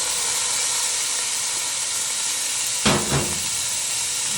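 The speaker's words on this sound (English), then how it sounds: "we're going to saute this up for about 2 minutes until the onions are translucent" Diced onions sauté in a soup pot, giving a steady, close hiss of sizzling that runs throughout, with a brief clatter near the end.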